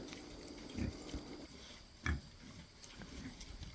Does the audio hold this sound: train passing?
no